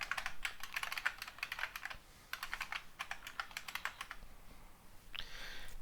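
Rapid typing on a computer keyboard while writing code, bursts of clicky keystrokes separated by brief pauses, close and clear with no talking.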